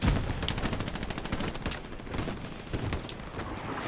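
Gunfire in the World War II shooter game Hell Let Loose: rapid bursts of automatic weapons and single shots crackle continuously in a loud, dense battle, without pause.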